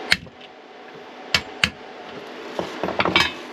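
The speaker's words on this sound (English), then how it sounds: "take my screwdriver and a little hammer and take that knockout, give her a nice little tappy tap there" Small hammer tapping a knockout out of a circuit breaker panel: a few sharp metallic taps, two close together, then a quick cluster of lighter taps near the end, close and clear over quiet room tone.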